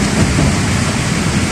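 Heavy rain on an expressway from Santo Tomas toward Calamba in the late afternoon, a dense, loud, steady roar of downpour and road noise filling the whole clip with no talk.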